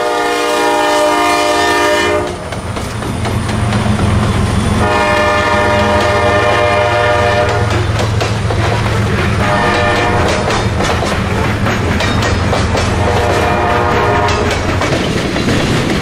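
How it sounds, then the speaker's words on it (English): CSX 7002, a CM44AC rebuilt from an AC44CW, sounds its Dash 8/Dash 9 era multi-chime horn in long loud blasts while a grain train rumbles past with clickety-clack wheels. "7002, a CM44AC, rebuilt from a 1990s era AC44CW, but it still has that Dash 8 and Dash 9 era horn."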